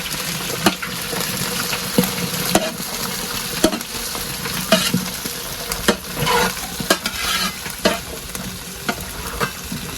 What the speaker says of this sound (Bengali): আমি সবজি তেলের মধ্যে খুব ভালোভাবে মজাই নিব